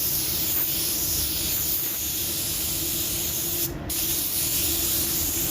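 Spray gun steadily hissing red paint onto a car fender over filler, a continuous close airy spray that barely pauses throughout.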